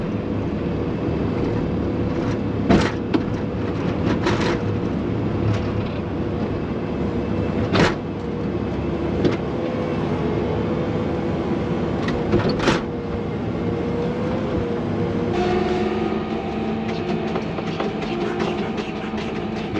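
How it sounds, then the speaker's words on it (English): A telehandler drives across a snowy farm, carrying straw bales to a calving barn. Its engine drones steadily and close, with a few sharp clanks and knocks breaking through. "I'm in our telehandler now. I'm just moving some straw bales over to our calving barn."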